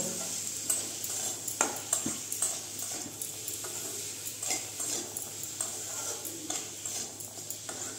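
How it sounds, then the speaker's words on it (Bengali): Boiled potato and chickpeas are mixed into fried spices in a pan for chicken ghugni, with a soft, close sizzle beneath sharp, irregular scrapes and taps of a spatula. "এর মধ্যে আমি দিয়ে দিচ্ছি এই যে আলুটা আর কাবলি চানা সিদ্ধ করা। এটা দিয়ে ভালো করে আমি এটার সঙ্গে মিশিয়ে নেব।"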